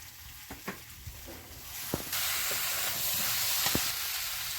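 Giant freshwater prawns fry with tomato in a pan, giving a steady sizzle and hiss that grows louder partway through, broken by a few sharp clicks of stirring.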